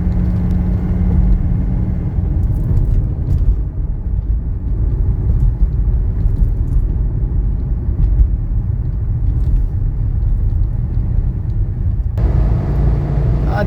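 A 1985 Mercedes 300TD wagon cruises at highway speed, its engine and tire roar forming a steady, loud rumble that continues unbroken throughout with no talking.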